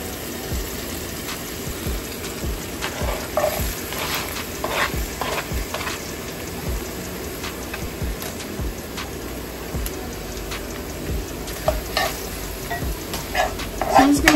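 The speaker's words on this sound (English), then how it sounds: "So I'm just gonna saute these until the onion is cooked a little more." Diced onions and minced garlic sautéing in a pan for spicy rigatoni with chicken and spinach, a continuous low sizzle with regular scraping stirs, moderately loud and up close, without speech.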